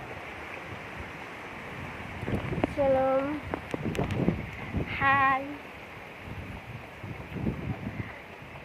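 Storm wind and rain outdoors make a steady rushing roar through the whole stretch, with someone speaking briefly and a couple of short tonal voice sounds over it.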